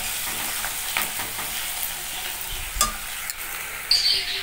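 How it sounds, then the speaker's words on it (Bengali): Onions fry in a pan with a loud continuous sizzle while a utensil scrapes and stirs them at intervals, with a couple of sharper knocks against the pan near the end. "দেখো পেঁয়াজটা না সম্পূর্ণ ভাজা হয়ে গেছে"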